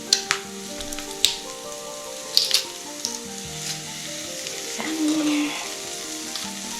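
Garlic sizzling in a pan while being stirred, a moderate frying crackle broken by a few sharp clicks and scrapes of the utensil, with a brief louder hiss toward the end.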